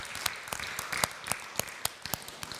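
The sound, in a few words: applause in church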